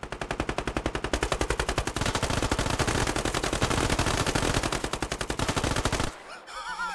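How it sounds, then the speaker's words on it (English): Rapid automatic gunfire from the Squad shooting game rattles continuously for about six seconds in loud, dense bursts, then cuts off abruptly into quieter game ambience. "Stand up and shoot one another."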